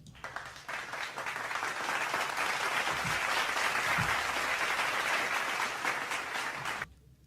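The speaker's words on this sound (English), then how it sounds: "I want to give us a round of applause" A studio audience gives a round of applause, dense and steady across many hands, sustained at even strength before cutting off sharply near the end.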